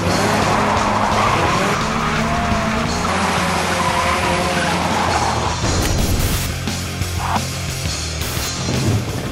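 A drift car skids through a slide, tires squealing loudly and continuously over a revving engine, the screech wavering and easing slightly toward the end.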